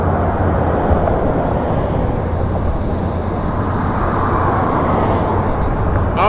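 A Lynx Air Boeing 737 MAX 8 at Toronto Pearson gives off a loud, continuous jet engine rumble and roar, steady throughout, heard alone.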